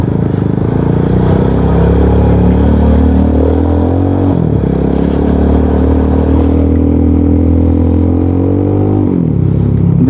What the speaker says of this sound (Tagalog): para marinig nyo yung ating muffler